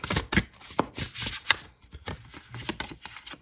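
Tarot cards are shuffled by hand in a quick run of riffling flicks and soft slaps, close and fairly quiet, with a short pause midway before the shuffling resumes.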